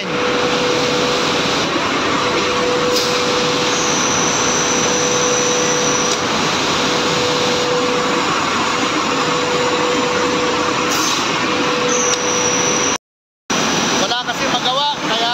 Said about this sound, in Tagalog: Dadaan po yan sa printing machine